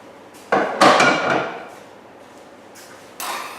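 A metal spoon pressing a biscuit base into a flan dish gives a few sharp knocks and scrapes close by, a cluster near the start, then a pause and one more knock at the end.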